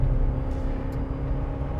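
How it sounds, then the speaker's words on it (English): Dual-cab ute towing a load uphill at full throttle, a steady close engine drone with low rumble and road noise, no voices. "I'm just going to flatten the throttle there."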